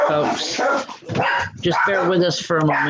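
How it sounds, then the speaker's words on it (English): Several dogs barking, yipping and whimpering in a home while someone speaks over them, the barks loud and frequent and partly overlapping her voice. "I apologize for the dogs"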